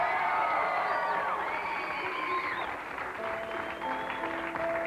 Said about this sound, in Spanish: aplauso para Sonchan